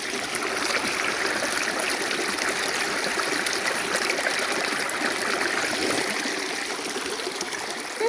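A shallow stream flows steadily along a nature walk, its water rushing and trickling in a continuous bright hiss, close and even in level throughout, with no talk over it.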